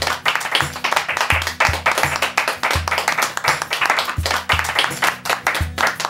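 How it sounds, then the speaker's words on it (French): Applause inserted into a Quebec comedy show filmed in a shed comes as a burst of clapping over a steady beat of thumping music, the claps crisp and layered on top of the rhythm. "Copier-coller les applaudissements."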